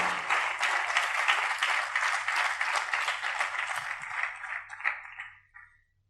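A church congregation applauds warmly with dense, sustained clapping that runs for several seconds, then tapers off and stops, leaving a low background hum.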